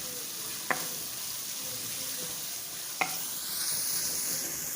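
Minced meat with garam masala stirred in a pan for a stuffed capsicum dish, a steady soft sizzle with two sharp spoon scrapes against the pan, close and alone.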